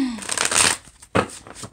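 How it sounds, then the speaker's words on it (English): A deck of cards being shuffled up close, a riffling burst followed by a short pause and a second quicker flutter. "Go ahead and get you one more shuffle."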